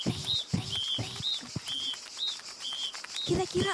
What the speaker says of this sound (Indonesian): adik-adik ada sedang dengar suara burung ya?